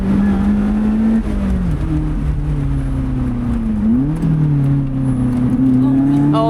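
A Lotus Elise engine pulls steadily on a winding Austrian road, a loud close drone rising in pitch with brief dips as gears shift, sustained throughout.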